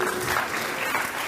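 Applause from the audience at a youth dialogue on reforms in The Gambia's West Coast Region, a dense, steady clapping that carries through the whole short moment.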